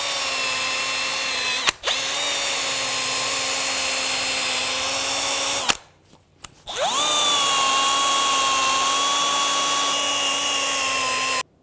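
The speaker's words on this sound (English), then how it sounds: "Using a wire brush," A wire brush on a power drill scrubs the steering knuckle surface of a 2003-2008 Honda Pilot during brake dust shield replacement, giving a loud, steady whine in long runs with brief pauses between bursts and no talk.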